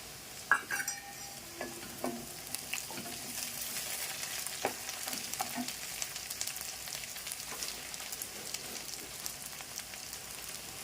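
Brinjal pieces fry in a pan over already-fried onions for sambar, with a continuous close sizzle broken by scattered clinks and scrapes of stirring, and no talking.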